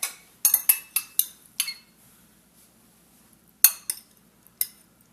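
Utensil clinking against a bowl while ingredients for Khao Leng Feun are mixed, a quick run of sharp taps and scrapes followed by a pause and a few more clinks, close and clear with no talking.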